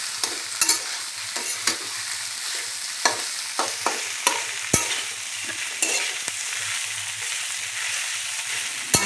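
Mustard greens stirred and sautéed in a pan: a constant sizzle broken by repeated sharp scrapes and clicks of a spoon against the pan, close and fairly loud, with no one talking.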